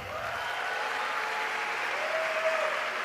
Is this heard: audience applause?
yes